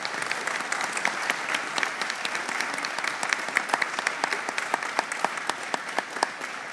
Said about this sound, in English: if we could give them all a collective round of applause and welcome them to the committee